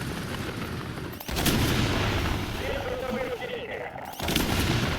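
Missile hitting a tank in a game particle-system demo: dense, continuous explosive rumble and crackle with booming bursts, loud and close, briefly cutting out twice before resuming.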